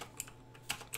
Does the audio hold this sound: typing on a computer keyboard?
yes